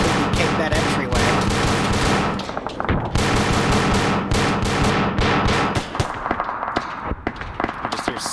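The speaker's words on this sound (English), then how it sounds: "You just hear so much fire going in there." Dense gunfire in the video game Arma 3: loud, continuous bursts of rifle and machine-gun fire with scattered heavier blasts, close and relentless, with faint talk at times.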